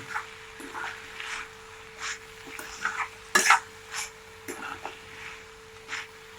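Cowpea (chavli) vegetable is stirred and sautéed in a pan, giving soft repeated scraping and stirring strokes with a faint sizzle underneath, close by and fairly quiet.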